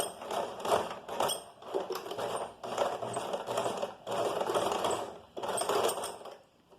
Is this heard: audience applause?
no